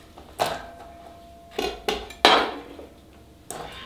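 Chopped onion is tipped into a bowl in a kitchen, giving a few separate clattering knocks and scrapes against the dish, spaced irregularly over a few seconds with no talk.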